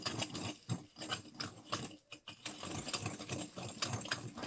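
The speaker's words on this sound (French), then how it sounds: "Alors là, je vais fouetter, je vais les mélanger jusqu'à ce que mon mélange y blanchisse." Egg yolks and sugar being whisked for a tiramisu verrine make a faint, steady, rhythmic churning with small repeating pulses and no speech over it.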